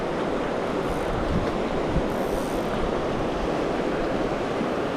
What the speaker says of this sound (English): got some nice, fast water with some deep pools on the edge